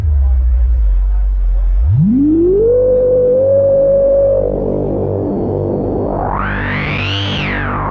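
A Minimonsta software synthesizer tone with boosted resonance sweeps upward into a sustained, resonant buzzing note, then rises again into a bright, squealing peak, loud and continuous.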